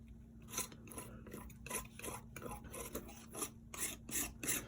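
Cold wax medium scraped across a textured surface, giving repeated rasping strokes in an irregular rhythm, close and fairly quiet, with no talk.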